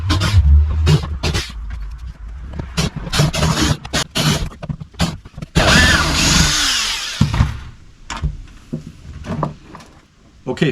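A power drill backs out screws from a Minn Kota Edge trolling motor foot pedal tray on a bass boat, with several short whirring bursts and a longer run, plus handling clatter and a voice talking between bursts.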